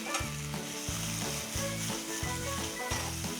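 Bacon sizzling and rendering its fat in a pan as a base for a rich café-style ketchup Napolitan, with a steady close crackle that runs on under prominent background music.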